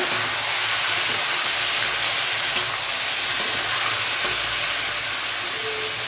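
Half a kilo of tomatoes frying in a hot pan: a loud, even sizzling hiss continues without a break, close up and with no talking.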